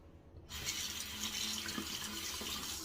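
A bathroom tap starts after a brief quiet moment and runs steadily for rinsing after a wet shave, a close, constant rush of water into the sink.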